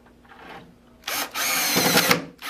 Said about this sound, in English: grab your drill with your Phillips head bit and grab 4 number 8x2 screws, and we'll go ahead and screw those into place